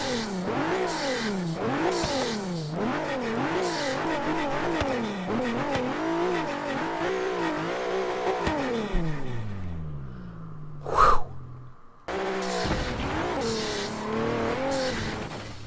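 Bentley EXP 10 Speed 6 engine in Forza Horizon 3: a loud, continuous rev and acceleration with rising and falling pitch through gear changes, a long winding-down deceleration, a brief sharp squeal, then renewed hard acceleration, no talk.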